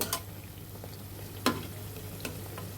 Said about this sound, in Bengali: ছয়টি ভাজা হলে বাকি এভাবে সব কয়টি ভেজে নিব এখন আমরা উল্টিয়ে দিব